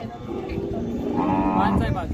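A loud, drawn-out moo from a Khillar bull rises close by over steady background chatter and crowd noise at a cattle market in Sangola.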